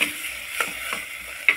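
Ground henna paste is sautéed in a pan, heard as a soft, steady sizzle with a few close scraping strokes of a spoon.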